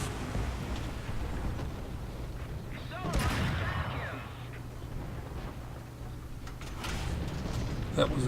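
Cannon fire from an M3 75mm GMC American tank destroyer in War Thunder: a heavy boom with a rumbling tail, set against steady engine drone and a few lighter distant blasts.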